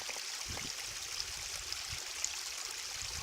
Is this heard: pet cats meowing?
no